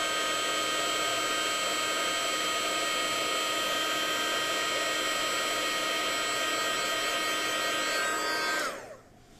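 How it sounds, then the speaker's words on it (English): An embossing heat gun blows hot air in a steady, loud whir with a high whine for about nine seconds, then cuts off and winds down near the end. "taking your heat tool again, heat it up, and then just heat it until the color changes"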